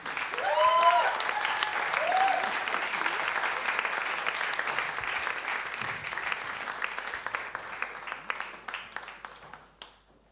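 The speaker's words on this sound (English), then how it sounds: "Give her a big round of applause." A room of listeners gives Marta Jakobovits a long, dense round of applause that holds steady, then thins into separate claps and fades out; speech briefly overlaps the beginning.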